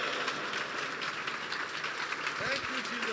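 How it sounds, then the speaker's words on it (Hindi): A church congregation claps loudly in praise during a sermon, a thick, continuous wash of applause with some voices underneath. "हम जोरदार तालियां बजाएंगे यीशु के जलाल के लिए"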